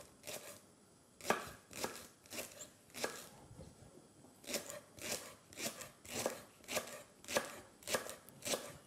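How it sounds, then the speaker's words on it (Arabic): An onion being cut into rings with a knife on a board: about a dozen crisp chops in a steady, fairly even rhythm, close and clear, with no talking. "قطع البصل دوائر."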